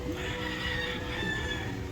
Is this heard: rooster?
yes